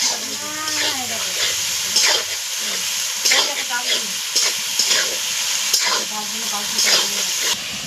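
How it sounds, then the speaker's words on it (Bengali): Fresh loitta (Bombay duck) fish fry in a pan with tomato while being stirred. A wet sizzle and steam hiss runs under the repeated scrape of a spatula, and a voice talks over part of it. "লোটে মাছটা যত ভাজা হবে তত আস্তে আস্তে জল বেরোবে।"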